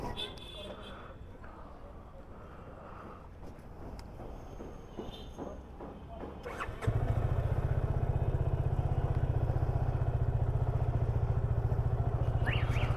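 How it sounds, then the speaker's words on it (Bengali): A Yamaha FZ-25 motorcycle sits at a low idle and then pulls away, and its engine swells into a loud, steady drone while wind rushes past. Someone speaks at the start. "তো ফার্স্ট টাইম এফজেড 25 চালানো হইতেছে ফার্স্টে উঠলাম"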